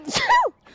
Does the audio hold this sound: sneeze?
yes